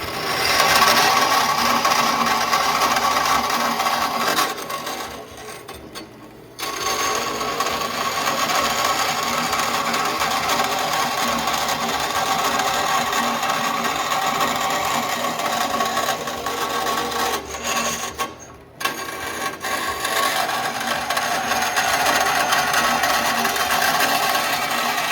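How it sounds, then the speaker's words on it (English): An old bandsaw cuts a fiberglass door panel for an FJ40 with a steady, loud, noisy drone that drops out briefly twice before resuming. "Then we'll just go right over here to the old bandsaw, and I'll cut that out."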